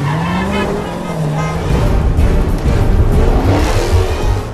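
Toyota FT86 racing in a film car chase, a steady loud engine roar with rising and falling revs and a hint of tire squeal, continuous and close throughout.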